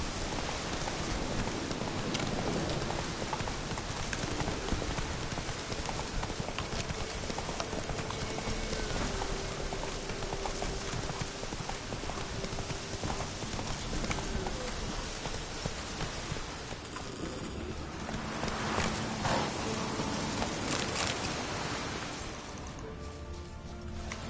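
In the Witcher 3 video game, a horse gallops through steady rain, its rhythmic hoofbeats pounding continuously under a dense hiss of falling raindrops, the rain thinning slightly near the end.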